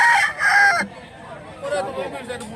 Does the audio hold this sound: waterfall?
no